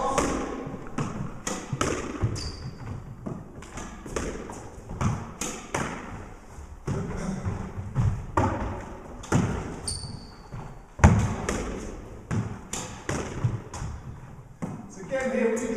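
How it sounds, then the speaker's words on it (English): Squash ball drop shots struck with a Prince EXO3 145 racket from mid-court: repeated crisp thwacks and bounces in an echoing court, irregularly spaced, with someone talking between shots. "So just going to try a few drop shots,"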